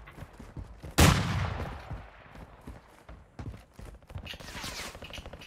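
Enemy gunfire in a first-person shooter video game, a sharp loud burst followed by scattered shots and rattling fire, close, with a softer volley later.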